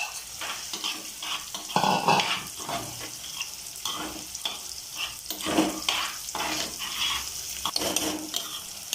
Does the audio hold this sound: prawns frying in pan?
yes